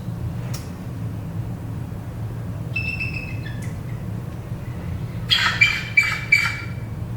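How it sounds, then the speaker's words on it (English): Bald eagle calling in a few short, thin, high-pitched chirps and squeaky piping notes, ending in a quick series of louder shrill squeals, with quiet gaps between the calls. "Bald eagle sound."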